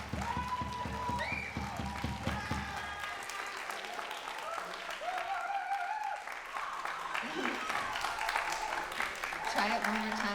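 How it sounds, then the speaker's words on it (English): An audience applauds at a jazz and blues camp masterclass, a steady wash of clapping running the whole way, with voices speaking over it near the end. "They started to applaud and you went"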